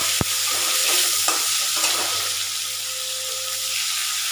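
Onions and tomatoes frying together in a pan, a steady close sizzle with occasional stirring scrapes and a brief sharp knock near the start, no voices.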